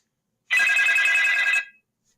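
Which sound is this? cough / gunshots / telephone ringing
telephone ringing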